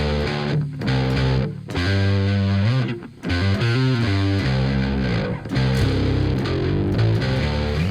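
Heavily distorted bass guitar chugs through a Neural DSP Parallax amp preset, thick and percussive in the low end, with short pauses between riffs and no talking.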